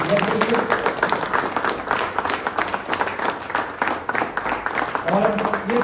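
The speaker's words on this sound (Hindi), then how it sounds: "तो एक बार वंस अगेन जोरदार तालियां हमारे" Applause from the audience at a sanitary pad product demo and training session, a steady, dense burst of many hands clapping that continues for several seconds at close range, with voices mixed in.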